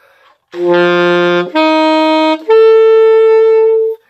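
Three sustained tones in concert F, the 1, 7 and 3 of a chord voicing, played one after another, each held about a second, clean and upfront with no accompaniment.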